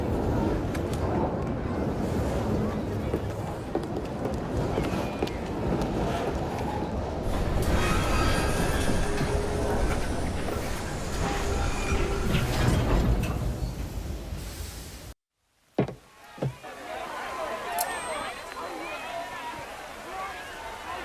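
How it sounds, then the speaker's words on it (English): Train in the video game Assassin's Creed Syndicate, a steady loud rumble and rattle of railcars lasting about fifteen seconds, broken by a brief cut of silence, then a quieter rolling clatter with faint mechanical squeals. "at least we have a train now"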